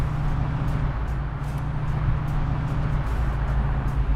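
A 1969 Chevrolet Camaro RS/SS convertible with a 350 V8 and automatic transmission cruising along, its steady low engine rumble and road noise filling the cabin, with faint ticks and knocks above.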